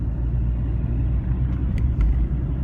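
Another car passes alongside and overtakes while the listener rides in a moving car, a steady, loud low road and engine rumble with a slight swell near the end.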